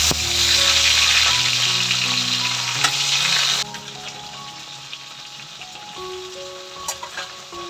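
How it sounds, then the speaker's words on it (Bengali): Fish frying in hot oil, a loud dense sizzle for about half the clip that then drops to a quieter, thinner crackle with occasional pops and light clinks. "এই মাছগুলোকে আমি ভেজে নেব।"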